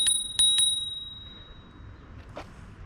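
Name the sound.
bicycle bell ringing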